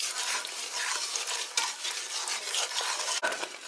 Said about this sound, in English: Stir it occasionally.